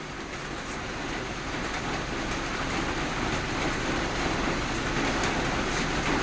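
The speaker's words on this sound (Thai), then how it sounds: "เสียงปอกแป๊กปกแป๊กกันเสียงฝนแล้วพี่น้องแล้วฝนตก" Heavy rain falls and patters steadily, a dense continuous hiss with a fine crackle throughout, evenly loud and close, with no talking.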